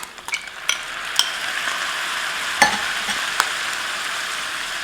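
Tomatoes hit hot bacon grease in a pan, setting off a steady, close sizzle with a few sharp utensil clicks and scrapes early on, and no talking.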